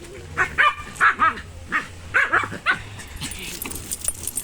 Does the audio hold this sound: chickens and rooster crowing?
no